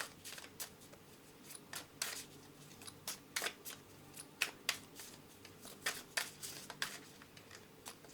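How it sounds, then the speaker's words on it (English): Tarot cards are shuffled up close, a rapid series of crisp riffling and flicking bursts in irregular clusters over a quiet background, fairly soft overall. "Spirit's asking me to pull some extra cards."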